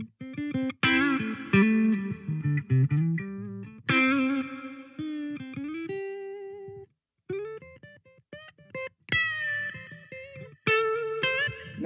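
Electric guitar through a Peavey Vypyr Pro 100 amp with gated reverb, played in loud strummed phrases whose reverb tails cut off abruptly into silence between chords.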